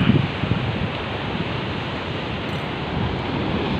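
Large ocean waves wash onto a hot, sunny beach in a steady broad rushing roar, with some wind buffeting the microphone and no talking.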